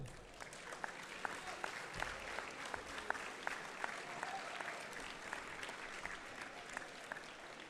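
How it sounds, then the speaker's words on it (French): An audience at a school race event applauds the teachers, a sustained, even wash of clapping from a sizeable crowd, heard at a distance and fairly soft, with a few sharper claps standing out. "On applaudit aussi les profs, s'il vous plaît."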